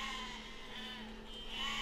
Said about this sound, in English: I think that was a sheep.